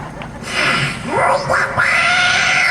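A voice imitates a cat at a mimicry show, making a few drawn-out meows that rise and fall in pitch, close and fairly loud, one after another.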